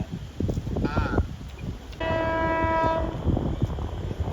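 A train passes near a rural road on an evening outing, with a long horn blast and a rumble of wagons, under light talk and outdoor ambience.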